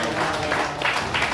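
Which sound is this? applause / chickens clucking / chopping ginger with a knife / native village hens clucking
applause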